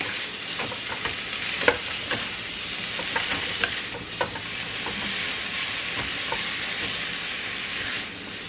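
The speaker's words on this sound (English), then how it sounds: "I just want to mix the seasoning and then take it off the pan." Seasoned cabbage, already soft, is stirred in a pan, giving a continuous close sizzle of frying with repeated scraping and clattering strokes of the utensil through the food.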